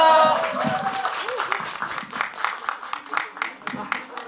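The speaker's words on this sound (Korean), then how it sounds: "박수를 맞아주세요." An audience at a film screening talk applauds in quick, uneven claps, starting under a fading voice and continuing alone.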